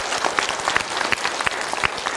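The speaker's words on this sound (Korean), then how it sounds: "우리 해병대를 위해서 박수 좀 쳐" A church revival congregation claps briefly for the Marines, a short, lively patter of many hands with a few louder individual claps, close and fairly even.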